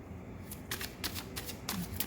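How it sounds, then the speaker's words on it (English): A deck of tarot cards is riffled and shuffled several times in quick bursts, close up and fairly quiet, with no talking. "I want to get a good shuffle."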